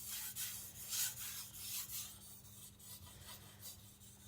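A Tojiro Shirogami white steel nakiri knife scrapes across a sharpening stone in soft, rhythmic strokes, each a brief raspy swish, quiet and close with no talking.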